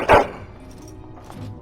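A single short bark from a dog in the video game Dragon Age Origins, sharp and close, followed by faint low ambience and a soft trailing sound.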